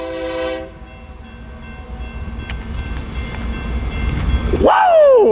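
A westbound BNSF/UP double-stack freight train rolls past at Tehachapi with a steady low rumble and wheel clatter, a horn blast opening the clip and a rising wheel squeal near the end, loud and close.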